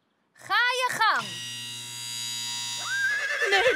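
Horse in a Bob the Builder cartoon gives a loud, close whinny with a wavering, descending pitch, followed by a sustained machine hum and a rising tone.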